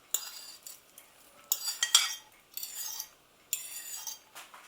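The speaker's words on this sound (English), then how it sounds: "Give them a stir." Kidney beans, roughly mashed with chopped red onions in a bowl, being stirred with a metal utensil: several bursts of scraping and clinking at close range, with short pauses between strokes and no talking.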